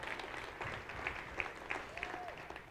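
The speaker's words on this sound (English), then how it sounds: "let's clap one more time." Audience applause fills a church service as a sermon series wraps up, a steady wash of clapping with a few sharper individual claps standing out, heard from within the room at moderate level.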